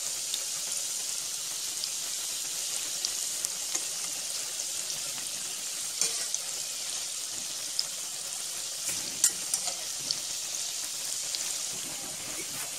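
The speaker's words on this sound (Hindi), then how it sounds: "मैं इसको मीडियम आंच पे ही सेकूंगी, मीडियम और स्लो पे" Gujiya frying in oil in a pan over medium, slow heat, giving a soft, steady bubbling sizzle with faint scattered pops and no voices.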